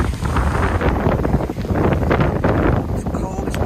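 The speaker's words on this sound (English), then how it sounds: "The storm has started." Heavy wind from a cold storm buffets an iPhone 12 Pro microphone in a continuous roar, with rain-like hiss and faint speech underneath.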